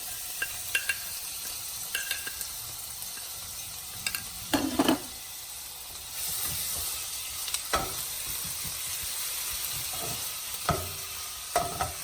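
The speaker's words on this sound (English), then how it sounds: "I've got my 2 teaspoons of ginger and the white part of the spring onion. Go ahead and saute that." Ginger and the white part of spring onion sauté in hot coconut oil, a steady close sizzle broken by sharp clicks and scrapes of stirring in the pan.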